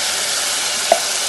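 Curry frying in hot oil for a Trinidad-style potato channa, a steady loud sizzle with a brief pop just before the end, no voices.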